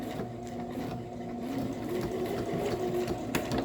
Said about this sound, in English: I'm going to try to sew as slow and as flat as I can because it's going through 4 thicknesses